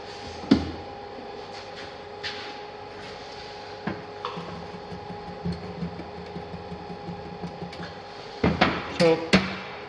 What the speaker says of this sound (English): I'll take a new piece of screen and I will start welding again.